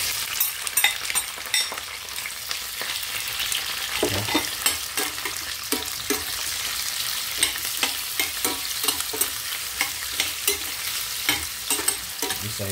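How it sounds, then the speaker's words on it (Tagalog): Onion and garlic frying in a hot pan for a chicken liver and drumstick dish, a steady bright sizzle with repeated scraping and stirring clatter close by, no talking. "Dahil mainit na ating kawali, ilagay na natin ang ating sibuyas at saka bawang"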